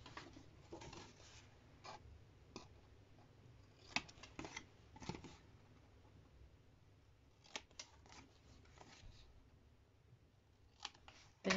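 Scissors snip the corners off a cover in short, quiet bursts of crisp cuts, clustered in quick groups separated by pauses in a hushed room.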